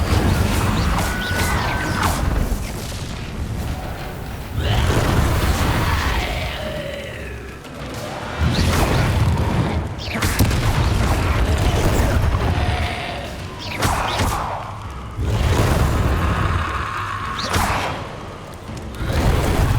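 Incendio fire spells cast repeatedly in Hogwarts Legacy, each a loud whooshing burst with crackling flame and impact booms, recurring in rhythmic waves over a busy battle mix with grunts and yells.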